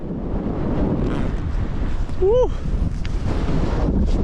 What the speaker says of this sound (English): I'm really sorry about this wind